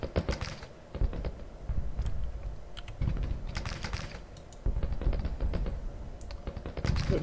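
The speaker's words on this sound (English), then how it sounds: "These guys firing, yes." Distant massed musket gunfire in the Civil War strategy game Grand Tactician, a continuous crackle of scattered shots in irregular clusters, soft and low in level, with heavy keyboard typing clicks over it.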